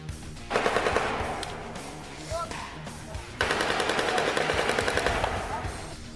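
Sustained rapid machine-gun fire crackles through combat footage, two long bursts separated by a short lull, dense and loud with faint talk underneath.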